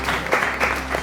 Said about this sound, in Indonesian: Tepuk tangan ya untuk Dandi.